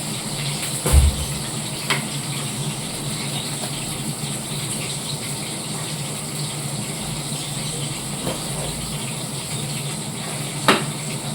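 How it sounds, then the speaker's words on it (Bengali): Pieces of pointed gourd fry for a fish curry in a pan, a soft, continuous hiss of oil with a few faint clicks and knocks from the utensils. "মাছের ঝোলে দেওয়া পটলটা আমার বেশ সুন্দর লাল লাল করে ভাজা হয়ে গেছে"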